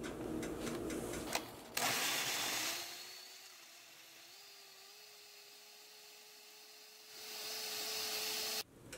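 A blender purees garlic, tomato bouillon and chicken bouillon for red rice, its motor holding a steady whine for several seconds between louder bursts at the start and end.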